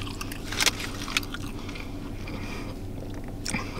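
Crunchy bites into a crispy bacon, egg and cheese deli sandwich, two or three close crisp crunches followed by quiet chewing, no talking.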